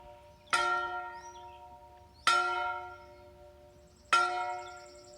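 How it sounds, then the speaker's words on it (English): A chapel bell at Monroe Valley Chapel in Lebanon County rings out three times at steady intervals of nearly two seconds, each bright strike ringing on and slowly fading with a sustained hum before the next. "you get to hear the bell being rung"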